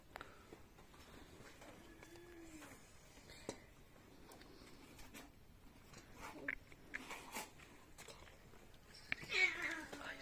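Several faint cat meows with soft scuffling, recorded outdoors during a lamb stick-kebab roast, with brief quiet movement sounds and a slightly louder meow near the end.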